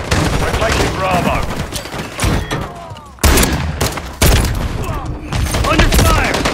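Heavy gunfire rages in a Call of Duty MW3 multiplayer match, dense bursts and thuds rolling continuously with sharp louder shots cutting in, while voices call out over the fighting.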